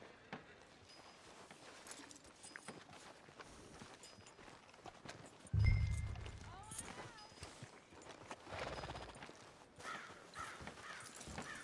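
Horse hooves clip-clop faintly in Red Dead Redemption 2 amid noisy outdoor ambience, with a muffled thump midway and occasional bird caws.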